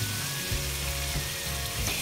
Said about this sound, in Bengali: এখন এর মধ্যে দিয়ে দিয়েছে টমেটো, এবার একটু ভালো করে নেড়ে চেড়ে মিশিয়ে নিচ্ছে